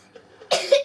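A single harsh cough bursts out near the end after a moment of quiet breathing, close and fairly loud.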